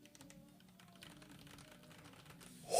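Keys with thick clear resin keycaps are typed on quietly, a string of soft close clicks and taps in irregular rhythm, ending in a louder burst.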